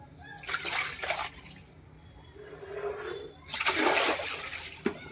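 Water splashes and pours out in two bursts separated by a quieter gap with a brief trickle, close and fairly loud over a steady low hum.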